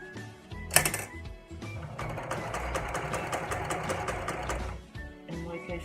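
Sewing machine stitching a fabric placemat, running in a steady continuous whir for about three seconds after a brief sharp click, then stopping, recorded close and loud with no talking.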